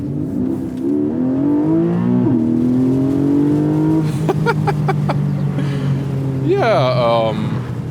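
A Porsche 718 Boxster in Sport Plus mode accelerates with a loud, rising engine note that drops and climbs again as it shifts, with a short burst of talk over it.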